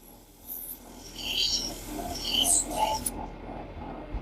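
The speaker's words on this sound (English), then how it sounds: "When I'm sanding the inside of bowls" Sandpaper rubs against the inside of a wooden bowl in a steady, close rasping scrape. The strokes vary slightly in intensity and continue throughout with no voices.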